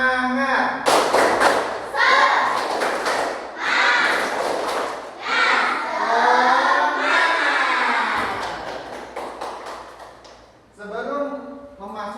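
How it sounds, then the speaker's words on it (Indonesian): A classroom group does a rhythmic spirit-clapping routine. Bursts of unison claps and thuds mix with children and a teacher chanting together, with pauses between each round. "Mari kita lakukan tepuk semangat."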